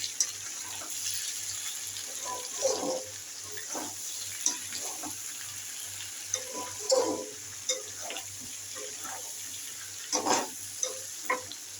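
Potatoes frying in a pan, stirred with a utensil: intermittent scraping and clatter strokes over a steady low sizzle, with a faint running-water-like hiss throughout, no voices.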